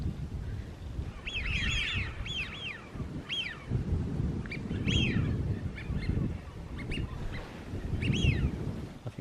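Ducks quack in short repeated bursts at middle distance along a country lane in Ruan Lanihorne, Cornwall, in spring, over a soft low wind rumble with no speech.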